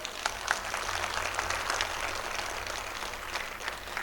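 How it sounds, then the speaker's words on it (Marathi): Scattered clapping from a crowd at a political meeting, steady and moderately loud throughout, with no voices over it. "जोरदार टाळ्या होऊन जाऊ देत"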